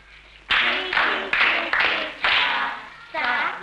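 Children clap a rhythm together in a classroom music lesson, six loud, sharp bursts of unison claps in a steady pattern, with young voices chanting along over each clap.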